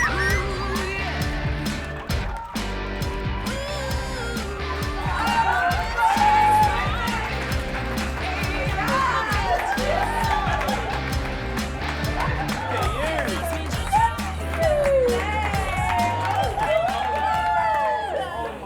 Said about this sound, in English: give a massive, massive round of applause to